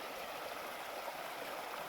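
The Little Missouri River flows near the Athens-Big Fork trailhead in Arkansas's Ouachita Mountains, a soft, steady, even wash of moving water with no talking.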